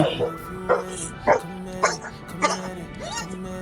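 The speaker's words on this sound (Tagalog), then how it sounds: "Parang galit na galit yung aso sa atin eh." Several sharp dog barks repeat irregularly, fairly close, with a few yips between them, over a steady low background hum, heard during a windy bicycle ride.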